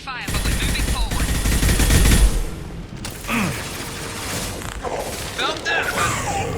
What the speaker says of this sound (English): We've been spotted. Miranda here. We're taking heavy fire, but we're moving forward.